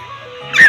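A voice imitates a dog barking, giving a single short, sharp bark-like yip at the very end after a moment of low sound.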